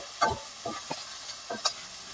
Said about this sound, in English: I'm going to just give it a nice stir here.